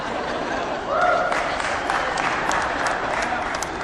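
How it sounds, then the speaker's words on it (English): An audience at a talk breaks into brief applause, a dense patter of clapping hands that rises suddenly and holds steady for a few seconds at moderate loudness. "Somebody always claps at that."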